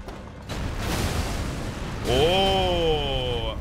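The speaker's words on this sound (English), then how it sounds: "Okay, the cannon's pretty good." Cannon blast in the video game Elden Ring, a loud booming burst followed by a ringing, whistling tail, heard once and close.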